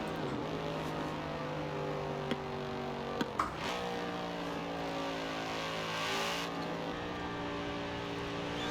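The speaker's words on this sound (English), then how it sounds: "when have you ever been in a station wagon that sounds that good?" A station wagon in Forza Horizon 4, its engine humming steadily at moderate level with a few shifting tones and brief clicks, no voices.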